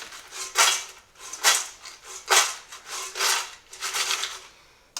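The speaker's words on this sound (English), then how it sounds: "But now I'm just going to mix these together." Homemade fried potato crisps tossed with lime and black pepper in a bowl, giving close, dry rustling and scraping bursts in a steady rhythm of about five pulses, with no talking.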